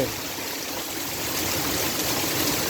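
Heavy rain pours down outside a house with rushing, churning water, forming a dense, steady hiss that grows slightly louder toward the end, with no voices.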